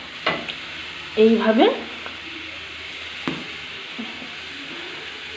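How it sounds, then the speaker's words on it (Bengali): Eggplant frying in a hot pan in a home kitchen gives a soft, steady sizzle, with a few brief clatters and a short spoken word over it. "তো এটা এদিকে ভাজা হচ্ছে"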